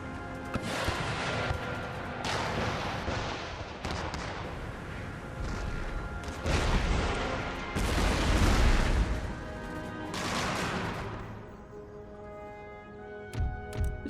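Cannon fire in Empire: Total War: a volley of deep booms and cracking artillery blasts rolls on for several seconds, with overlapping shots and rumbling echoes, loud and dense, then a few scattered later reports.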